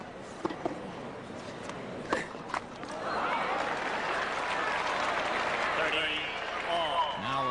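A tennis crowd bursts into applause for McEnroe, a sustained wash of clapping and cheers swelling midway, with a commentator talking over the start.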